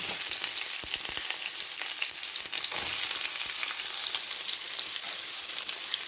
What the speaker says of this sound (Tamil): இப்போ எண்ணெய் சூடாகிட்டுது நான் ரெண்டு பட்டை போடுறேன் பட்டையும் போட்டு பெருஞ்சீரகம் போட்டிருக்கிறேன் கொஞ்சம் சீரகம் இப்போ வெங்காயத்தை போடுவேன்